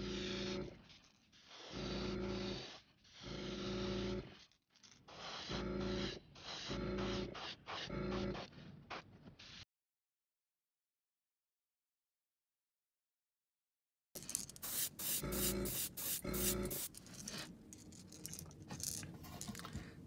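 An airbrush mists paint onto a shad-pattern squarebill crankbait fishing lure in short hissing bursts, quiet and close, with a long pause before another run of spraying.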